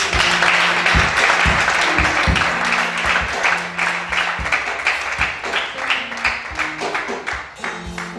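A church congregation at a worship service applauds for Jesus, loud sustained clapping from a crowd, with a few voices and sung tones rising beneath the applause.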